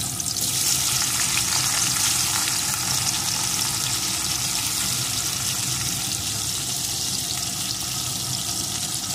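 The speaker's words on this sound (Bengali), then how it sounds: "এখন এই তেলের ভিতরে পেঁয়াজের কুচিগুলোকে প্রথমে দিয়ে দেব।" Chopped onions hit hot oil in a karai while mutton curry is being cooked, giving a loud, continuous sizzling hiss with crackling spatter that holds steady throughout, with no voices.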